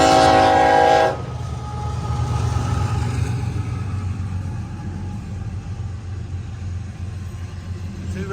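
A loaded CSX coal train hauled by two AC4400 locomotives rolls through St. Albans, West Virginia, opening with a loud horn blast that gives way to a steady, heavy rumble and clatter of passing cars.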